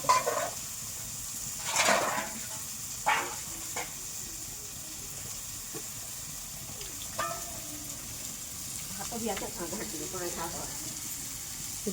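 Ground paste for a prawn-head dish hitting a hot pan and frying, a soft steady sizzle with a few louder splutters early on and faint stirring, fairly quiet and distant.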